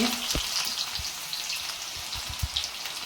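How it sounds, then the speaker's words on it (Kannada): Mustard seeds and onion sizzle steadily in hot oil for a tempering, with a constant crackling hiss and several sharp pops and spatters scattered through it. "ಅದಕ್ಕೆ ಒಗ್ಗರಣೆ ಹಾಕೊಳ್ಳೋಣ ಒಂದೆರಡು ಸ್ಪೂನ್ ಎಣ್ಣೆ ಹಾಕ್ಕೊಳ್ಳಿ ಒಂದು ಸ್ಪೂನ್ ಸಾಸಿವೆ ಈರುಳ್ಳಿ"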